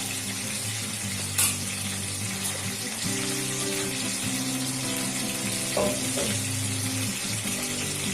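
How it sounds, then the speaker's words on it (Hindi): About three spoons of ghee heat in a kadhai for butter chicken, giving a continuous close sizzle and crackle with a low hum beneath and a couple of brief clinks. "उसी कढ़ाई में मैं डाल दूंगी अब घी।"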